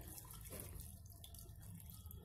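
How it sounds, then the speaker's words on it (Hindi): Water pours steadily into lentils in a pot for mutton shami kabab, a soft, continuous splashing stream heard alone at low level. "इसमें पानी डाल देंगे"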